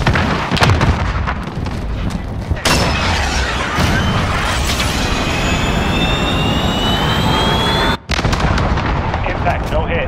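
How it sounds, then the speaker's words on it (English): Missile launch in Call of Duty: Modern Warfare, a loud sustained roaring blast with booming rumble and a rising whine, cut by a brief dropout near the end, with a voice briefly audible. "missile, go for launch"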